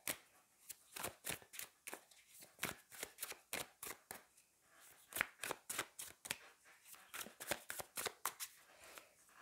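Barbieri Tarot cards are riffle-shuffled over and over at close range, a quick run of crisp, rapid bursts of flicking paper in steady rhythm with no voices.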